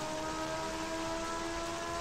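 Steady hiss of rainfall in the racing game Super Woden GP, a constant wash of falling drops laid over a faint tonal engine drone, even and unbroken throughout.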